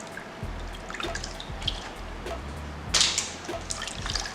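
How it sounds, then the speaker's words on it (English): Water splashes and drips faintly and continuously as a lemon and mint body scrub is rinsed off skin, with soft trickling and one brief louder splash, no voices. "So just go ahead and wash this off."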